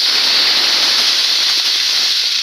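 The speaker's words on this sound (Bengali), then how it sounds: "এখন জল দেবো" Water poured into a pot of potato curry, made with besan for a vegetarian dish, gives a steady, loud rushing hiss that holds evenly throughout without pause.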